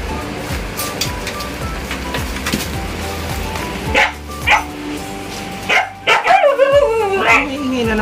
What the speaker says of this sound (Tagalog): Iingay na naman ang aso namin.